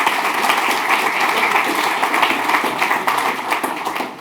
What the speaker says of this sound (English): a round of applause for Chiswick